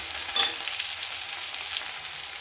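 Onions with a little salt fry in a pan as the base of a fish curry, a close, even crackling sizzle with a brief louder stir near the start, no voices.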